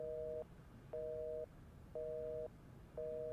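Telephone busy tone after a call is cut off: a steady two-pitch beep pulsing in regular half-second bursts with equal gaps, heard alone and fairly faint over low background hiss.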